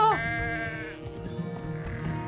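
Sheep bleat in a field, one strong wavering bleat up close at the start, followed by more overlapping bleats from the flock that continue steadily in the background.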